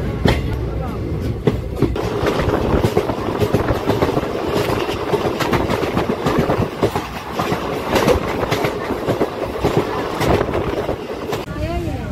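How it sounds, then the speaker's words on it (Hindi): A packed passenger train, the 05509 Saharsa–Jamalpur service, pulls out of Kopariya station, heard from inside as a steady, close rumble with rhythmic clickety-clack of wheels over rail joints, with voices over it. "अब हमारी ट्रेन कोपरिया से डिपार्चर ले रही है।"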